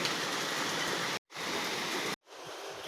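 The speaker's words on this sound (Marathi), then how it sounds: "आज रात्री तीन वाजतापासून जोरदार पाऊस सुरू आहे" Heavy overnight rain pours down in a steady, dense hiss that fills the whole clip, broken by two brief cuts in the sound.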